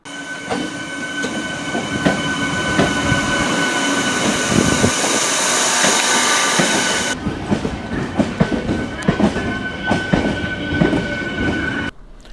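A MEMU passenger train running on rails, a loud close rumble with rhythmic wheel clatter and a high metallic whine that drops away partway as the carriages keep rolling past.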